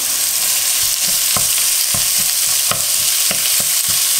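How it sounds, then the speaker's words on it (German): Minced meat sizzles loudly in a pan with onions and carrots, a dense continuous frying hiss broken by regular knocks and scrapes of a spatula stirring, close by with no speech. "Jetzt tue ich direkt das Hackfleisch rein."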